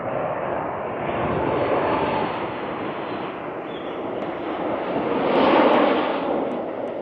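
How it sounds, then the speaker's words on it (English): A fixed-wing airplane passes overhead at an outdoor shopping center, its broad engine roar swelling, easing, then swelling again to a peak before fading slightly, steady and fairly loud throughout with no talking. "There's another plane."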